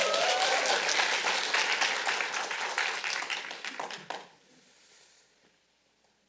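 An audience at a Korean lecture event claps in dense, loud applause that thins out and fades to near silence after about four seconds.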